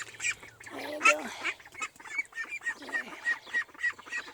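Ducks quack and honk over and over in quick, uneven bursts, fairly close, with no talking, while being moved to a new home.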